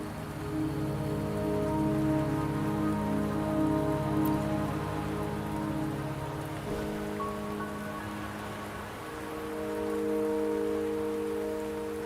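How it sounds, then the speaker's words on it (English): Rain falls steadily in the video game Wuthering Waves, a continuous hiss on surfaces beneath sustained tonal music and ambient drones, with no voices. "Don't worry, the rain won't last much longer."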